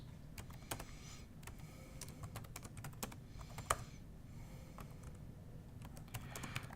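Quiet, close clicking of a computer keyboard as a tar extract command is typed, with irregular keystrokes tapping steadily throughout and one sharper key hit partway through.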